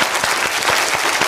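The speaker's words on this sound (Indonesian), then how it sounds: "Boleh kasih tepuk tangannya?" Audience at a church and politics talk show in Batam claps together, a short burst of dense, loud applause from a nearby crowd with no voices heard.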